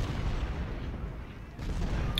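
Artillery fire in Ultimate General: Gettysburg, a Civil War strategy game, rumbles as a low, muffled boom beneath a dense background of battle noise, fairly faint overall.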